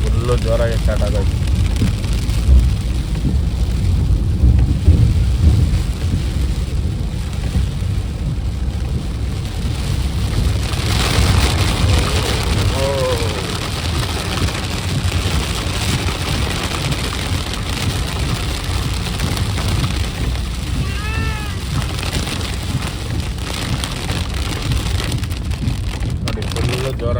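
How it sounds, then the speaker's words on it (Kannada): Heavy rain pours down steadily on a road near Kundapura in coastal Karnataka, a dense, continuous wash of noise filling the whole stretch, with voices briefly heard over it. "ಆಲ್ರೆಡಿ ಈಗ ಮಳೆ ಸ್ಟಾರ್ಟ್ ಆಗೋಯ್ತು"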